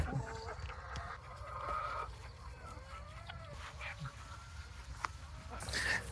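Several chickens cluck and murmur nearby, with a few higher calls rising over a low steady background hum.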